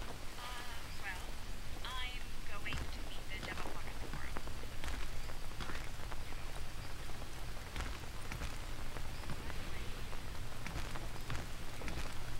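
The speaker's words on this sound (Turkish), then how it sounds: "Yağmur yağıyor." Steady rain falls throughout in the jungle survival video game Green Hell, a dense, even patter of drops on surfaces with a faint low rumble underneath, and soft voices murmuring in places.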